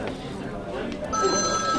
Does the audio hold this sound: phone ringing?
yes